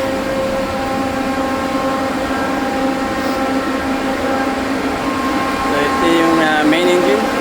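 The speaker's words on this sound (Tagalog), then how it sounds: "start natin ang engine room fan" A ship's engine room fan runs as a constant loud whirring hum with steady tonal lines, and faint squeaky sounds rise briefly near the end.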